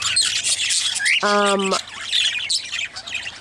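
A lean hen gives a single loud, harsh squawk lasting about half a second, close to the microphone amid chirpy bird calls and a low background hum.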